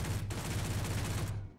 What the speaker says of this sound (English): Oh, those are guns.